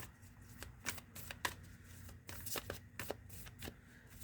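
Oracle cards being shuffled and drawn from a deck, a quick series of crisp riffling flutters and soft slaps, close and fairly quiet with no talking.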